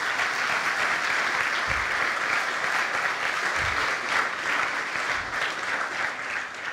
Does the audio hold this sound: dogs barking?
no